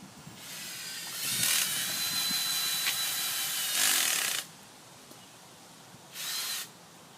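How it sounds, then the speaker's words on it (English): A power drill whirs in several bursts of grinding noise while drilling holes into the ground for peat pots, two long runs then a short one, with quiet pauses between. "this is what we'll be using to drill holes into the ground"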